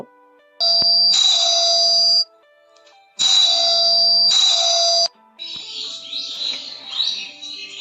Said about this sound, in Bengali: ব্যারিস্টার বিনায়ক দাশগুপ্তের বাড়িতে কলিং বেল বেজে উঠল।